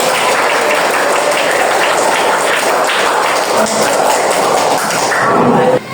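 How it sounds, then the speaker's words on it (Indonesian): A group of schoolchildren claps and taps in a busy, uneven burst of applause, fairly loud and close, lasting several seconds before stopping abruptly. "tepuk tangan"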